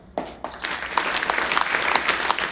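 Schoolgirls at a soft skills seminar in a school break into loud, dense applause after a couple of scattered opening claps, the clapping building and holding steady close by.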